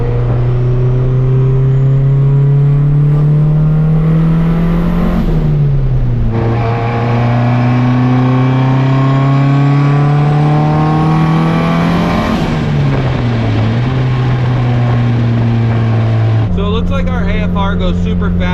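A turbocharged Honda Civic with a built single-cam engine pulls hard under load, its loud, steady engine note climbing through the revs, dipping briefly at shifts around the middle and near the end before rising again.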